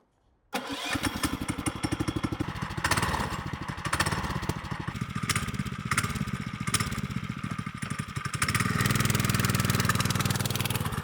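The engine of a Scout ATV motorbike starts after a short silence and settles into a steady, fast-pulsing putter close by, growing louder near the end.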